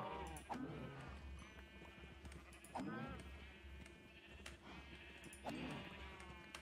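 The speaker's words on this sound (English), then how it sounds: "Sorry, Mr. Sheep!" Repeated sheep bleats from a Minecraft game, three clear wavering calls spaced a couple of seconds apart over a steady low game hum, fairly loud and close.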